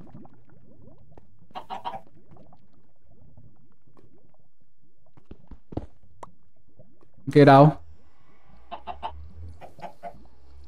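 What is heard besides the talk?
chickens clucking in the video game Minecraft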